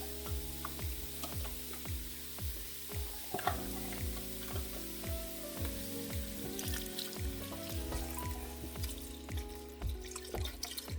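Chicken pot pie soup ingredients thickening in a pot, stirred with a spoon in a steady series of scraping and swishing strokes over a low sizzle, close but quiet with faint watery clinks.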